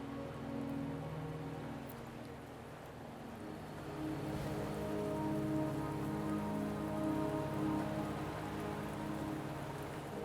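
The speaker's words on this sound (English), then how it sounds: "Don't worry, the rain won't last much longer." Steady rain pours down in a video game set on the way to Mount Firmament, a dense wash of drops over a low rumbling bed that swells slightly midway, with no voices.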